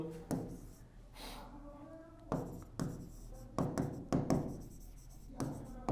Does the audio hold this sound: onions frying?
no